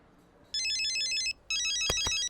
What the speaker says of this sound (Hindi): अपना फोन स्विच ऑफ कर दीजिए।